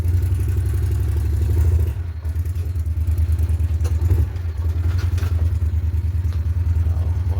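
A John Deere Gator 625i utility vehicle driving along, with a loud, steady, low engine drone and some rattling, dipping briefly around two seconds before carrying on evenly.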